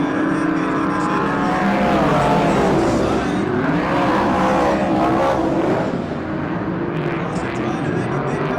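USAC midget race cars howl around a track in 1996, a dense, loud pack of rising and falling engine notes with a race announcer talking over the roar.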